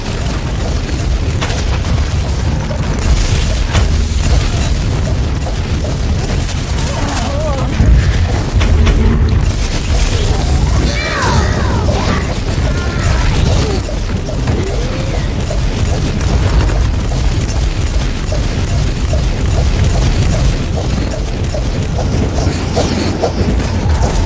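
Artillery pounds away in Warhammer 40,000 Inquisitor - Martyr, a dense, unbroken barrage of heavy booms and rumbling thuds mixed with mechanical clatter, loud throughout.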